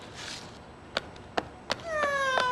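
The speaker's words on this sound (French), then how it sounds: "C'est un chat perdu qui miaule de cette façon-là." A cartoon cat meows near the end with a rising, wavering cry, preceded by a few sharp taps in an otherwise quiet room.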